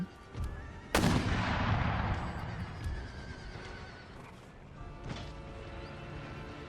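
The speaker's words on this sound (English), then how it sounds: "I know you really don't like these enemy mortars" Enemy mortar shells strike in an Empire: Total War battle with Prussian forces: one loud, close blast with a long rumbling decay, then a second lighter impact later amid distant battlefield noise.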